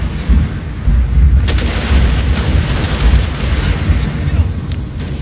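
Rapid, dense gunfire and booming shots in a Total War: Shogun 2 battle crackle continuously through the clip, a chaotic battle din with sharp cracks over low rumbling.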